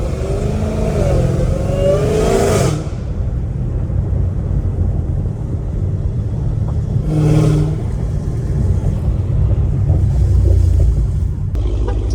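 Dodge Challenger Hellcat Redeye accelerating on Los Angeles streets, a loud deep engine roar heard from inside, surging strongly at first, dropping to a lower rumble, then swelling again in a second brief burst.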